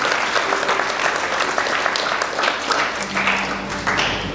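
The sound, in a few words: congregation applause in church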